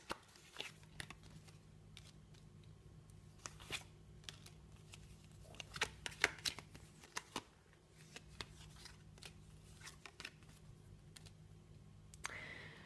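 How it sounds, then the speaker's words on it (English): Tarot cards are shuffled and dealt out on a table: soft papery riffles, slides and light taps come in irregular bursts, close and fairly quiet, with no talking. "I will lay out 5 more cards and we'll see what comes up"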